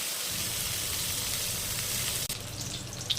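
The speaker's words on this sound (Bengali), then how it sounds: "এখানে বেগুনগুলো মামনি লাল লাল করে ভেজে নিচ্ছে।" Eggplant pieces sizzle steadily in hot oil while being fried until reddish, for a Bengali mustard hilsa dish; a dense, continuous crackling hiss runs throughout with a brief dip near the end.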